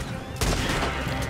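A bolt action rifle gunshot in Red Dead Redemption 2: a single sharp, loud crack that cuts in partway through, then a rumbling echo trailing away over busy background noise.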